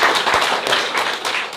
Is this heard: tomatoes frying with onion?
no